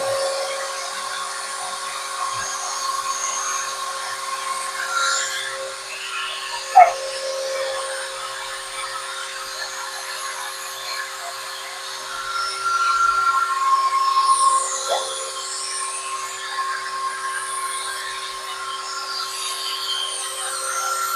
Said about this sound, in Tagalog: Kaya yung grinder na to.